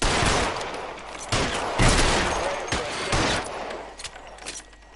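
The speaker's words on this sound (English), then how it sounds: "Wasn't expecting to get in a shootout" A shootout in L.A. Noire, with dense gunfire crackling in loud, rapid bursts that overlap for several seconds before thinning toward the end.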